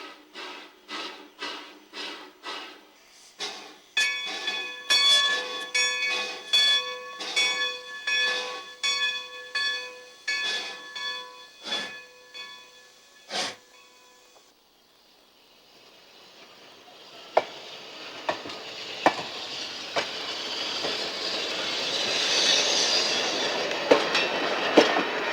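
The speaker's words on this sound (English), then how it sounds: "the train begins to back up onto the old siding." A train backing up onto an old siding clanks slowly along with rhythmic metallic clicks and a ringing bell, then fades into a rising rumble and hiss of rolling cars nearby.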